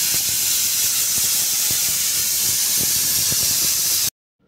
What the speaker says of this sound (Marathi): मिक्स झाल्यानंतर मी त्याची कुकरची शिट्टी घेऊन घेतली.